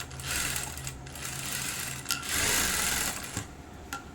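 A sewing machine runs steadily, stitching piping onto a blouse, its fast mechanical whir and needle patter close by, with brief pauses and small clicks between runs.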